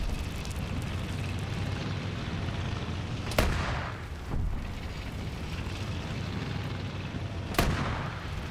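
Gunfire in a WW2 alternate-history multiplayer shooter game, with a constant rumbling battle background and two sharp, loud shots standing out several seconds apart, no talking.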